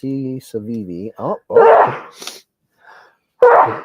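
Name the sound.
sneeze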